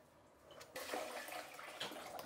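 Fresh water rushes into a pot of rice being washed for soft idlis, a steady close splashing pour that swells after a faint start and runs on alone.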